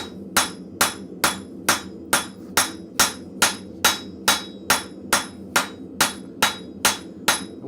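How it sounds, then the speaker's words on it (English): Hot steel struck with a cross peen hammer at a blacksmith's forge, about seventeen ringing blows in an even, steady rhythm, close and loud with no talking. "We're gonna continue working the one with the cross peen."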